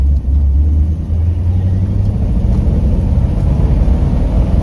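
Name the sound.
1955 Ford Fairlane engine running on rebuilt Holley 4000 carburetor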